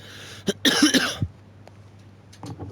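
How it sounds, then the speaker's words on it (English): A person clears their throat with a few harsh, close, cough-like rasps in quick succession, followed by quiet room tone and faint stray clicks. "Just clearing my throat"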